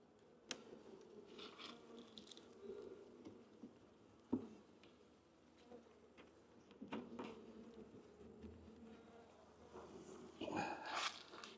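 Honey bees buzzing in an opened hive, a low, faint, continuous hum with scattered clicks and knocks of frames being handled.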